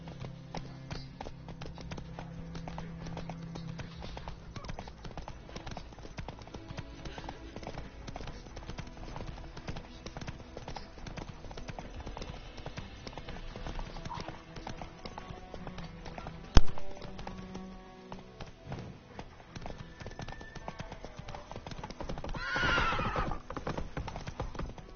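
A horse gallops and neighs in the video game The Witcher, a steady rhythmic clip-clop of hooves running throughout, with a sharp thud partway through and a loud whinny near the end, over faint talk.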